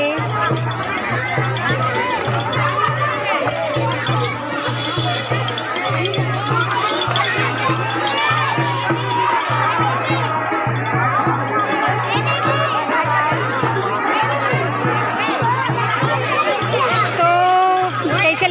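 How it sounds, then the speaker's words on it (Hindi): A large crowd mills around outdoors at a Shiva puja gathering near a river, dense overlapping chatter and shouting, with children's voices and a steady rhythmic drum or horn pulse running beneath the babble. "देख सकते हो संगवारी हो बहुत ज़्यादा भीड़ हवा है"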